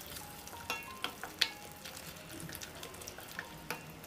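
Tomato gravy with tamarind water and ground mustard, cumin and fenugreek powder sautéing in a pan for thakkali thokku, giving a soft, steady sizzle with scattered light clinks and scraping taps, fairly quiet throughout.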